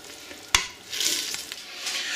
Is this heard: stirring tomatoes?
yes